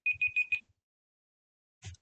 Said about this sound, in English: There's my timer.